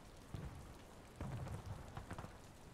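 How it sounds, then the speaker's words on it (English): Rain falling on a Holy Roman Empire event server in a video game, a steady soft hiss with scattered heavier patters, continuous and even throughout without speech. "And a little bit of rain here on the server."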